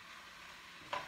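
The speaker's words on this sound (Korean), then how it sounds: "자 이렇게 볶아지고 있어요" Japchae glass noodles stir-fried in a pan give a steady low sizzle throughout, with a brief louder scrape or toss near the end, heard alone without talk.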